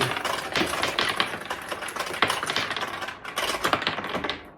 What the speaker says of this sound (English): I'm going to just launch a couple of balls here just for the heck of it